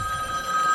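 A telephone rings steadily in a workshop, a short continuous electronic trill at moderate level with no talk.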